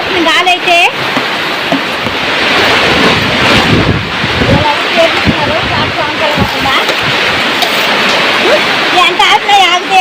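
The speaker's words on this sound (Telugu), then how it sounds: "బీభత్సంగా వేస్తుంది గాలి అయితే" Strong gusting wind in a village rainstorm buffets the microphone with loud, surging roars and rumbles, rising and easing over ten seconds, with brief voice-like tones at the edges.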